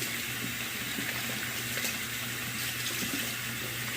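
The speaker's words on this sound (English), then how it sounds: "Rinse out my brush real quick." A shaving brush is rinsed under a running tap, giving a steady, close hiss of flowing water with faint splashing and no pauses.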